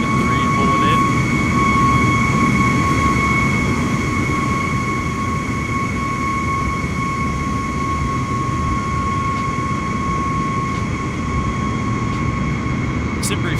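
An all-white Airbus A321neo airliner rolls in to the gate in Microsoft Flight Simulator 2024, a loud, steady jet engine drone with a constant high whine over low rumble, unchanging throughout.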